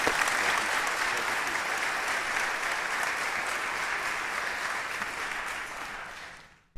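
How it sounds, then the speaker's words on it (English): Sustained audience applause for Senator Fred Mills at his legislative farewell, steady and dense clapping throughout that fades out near the end. "let's give him a big round of applause for the love he's given us"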